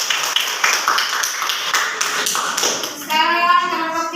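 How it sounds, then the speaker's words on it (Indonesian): A room of schoolchildren in a religious lesson claps for the second group, a lively patter of many small hands, with light chatter and children's voices rising near the end. "kita beri aplaus untuk kelompok kedua."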